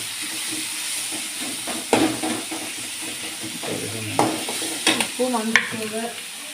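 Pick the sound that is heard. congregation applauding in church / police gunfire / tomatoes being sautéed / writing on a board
tomatoes being sautéed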